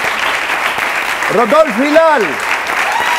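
Studio audience applauding steadily on an Arabic-language television variety show, a continuous clapping wash under a voice.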